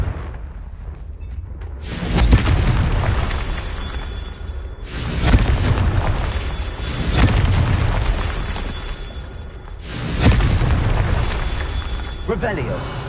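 Fire spell explosions in the Hogwarts Legacy video game: loud, booming blasts that roll on in long waves, one after another, filling the whole passage.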